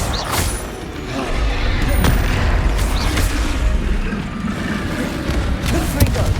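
Booming spell blasts in Hogwarts Legacy, fire and explosive spells going off in quick succession, loud and continuous with rumbling impacts and crackling bursts layered over game combat noise.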